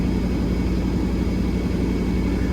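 A cold Mercedes-Benz E420 W124 V8 engine runs with a steady, deep droning hum, held at moderate revs to help it warm up, recorded close with no voices.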